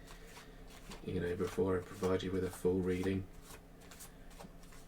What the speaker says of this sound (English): I'm going to give these cards a bit of a shuffle.